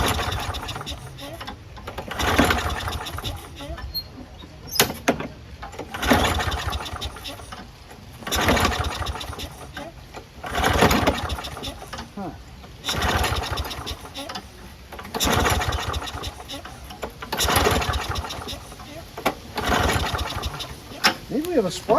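Small engine on outdoor power equipment being cranked repeatedly with a pull cord, about nine rhythmic bursts of churning and sputtering spaced a couple of seconds apart, moderately close, failing to catch.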